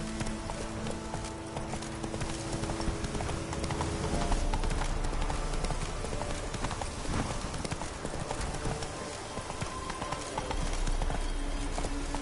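Hooves of the horse Roach clip-clopping steadily in The Witcher 3 video game, a continuous rhythmic trot heard over ambient game sound with brief speech.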